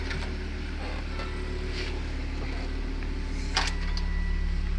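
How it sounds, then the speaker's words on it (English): A Volvo V70 engine, fitted with a reduced engine performance fault, idles and holds raised revs in a steady, continuous drone at close range, with a brief sharper mechanical click near the end and no talking. "So you can see the rev is going up."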